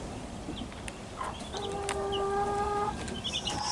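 Mother hen with five baby chicks in an enclosed coop section, soft low clucks with high peeping chirps from the chicks, fairly faint, with rustling in the background.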